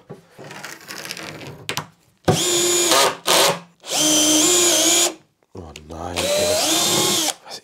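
A power drill unscrews a stubborn screw from a workbench body being converted into a table saw, in three loud, sustained whirring bursts separated by short pauses, with quieter handling noise at the start.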